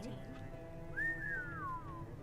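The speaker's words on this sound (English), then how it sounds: "Who whistled?" A short two-note whistle rises and then slides downward, heard at moderate level over a steady low ambient drone in the video game Code Vein.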